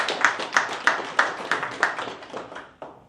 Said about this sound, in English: give yourself a big round of applause for being here today